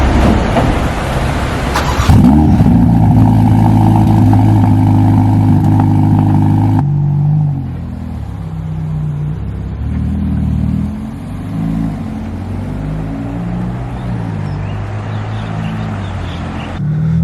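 A Ferrari Roma's engine starts with a sharp burst and settles into a loud, rumbling idle heard close from inside, then the tone shifts as the car pulls away, rising and falling steadily through gear changes.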